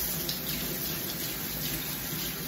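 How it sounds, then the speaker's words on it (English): Tap water runs steadily from a faucet into a sink in an outdoor cooking setting, a continuous close hiss with no pauses and no talking. "Didn't mean to get the water going over here."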